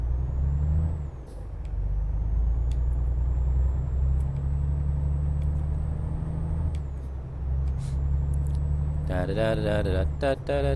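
A truck pulling a trailer in Euro Truck Simulator 2 rumbles with a steady low engine drone, a hissing air brake near the start and a rising engine tone at the end.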